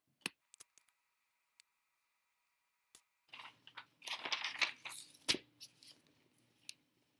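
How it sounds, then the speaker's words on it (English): Scissors snip slits into wool fabric for a boot, a few sparse clicks at first, then a run of close crunchy cuts and rustling cloth, quiet and near. "Right now I'm cutting slits in the hole because I'm going to want to hem it, the wool"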